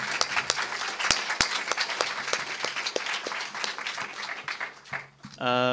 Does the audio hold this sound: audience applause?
yes